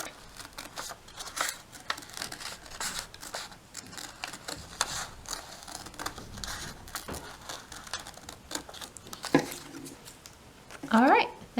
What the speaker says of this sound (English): I'm going to cut that out and around.